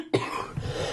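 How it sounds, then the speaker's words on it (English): A single close, harsh cough bursts out after a moment of quiet, followed by a rough throat-clearing rasp that trails off. "I apologise for the coughing."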